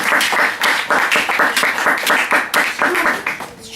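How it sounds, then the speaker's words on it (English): An audience applauds in steady clapping that fills the room, close and loud, holding throughout before tapering slightly at the end. "Let's give an applause to these guys"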